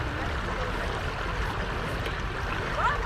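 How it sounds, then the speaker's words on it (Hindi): Steady, soft rush of flowing water at a lake in Alberta, a continuous even wash heard from a little distance with no breaks or voices. "पानी की आवाज़ अगर आप सुने तो बड़ी पुरसुकून होती है."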